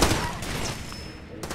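Gunfire in the video game Far Cry 2, a dense burst of shots at the start that decays into a rumbling tail, with another sharp report near the end; a voice murmurs faintly underneath.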